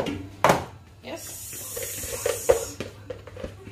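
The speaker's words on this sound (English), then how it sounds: "I'm going to pour my rice in here" Dry rice poured into a baking dish for an oven-baked rice dish gives a brief, close rattling hiss, with some softer clinks afterward and a voice speaking nearby.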